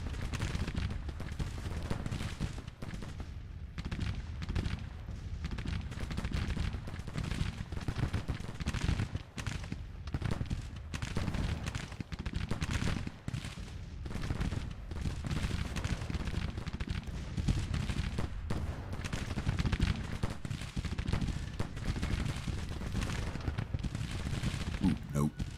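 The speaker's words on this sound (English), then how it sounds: "Let's change that bombardment order a little. Want them firing over here." Artillery bombardment in the Civil War strategy game Grand Tactician, a continuous rumble of cannon fire and scattered gunshots rolling on without pause for the whole stretch, dense and fairly loud throughout.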